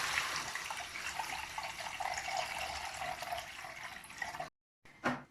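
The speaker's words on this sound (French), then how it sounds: "Et maintenant, je verse l'eau pour mon riz" Water poured steadily into a pot for cooking rice, a continuous close splashing gush that stops abruptly, followed by a brief faint rattle.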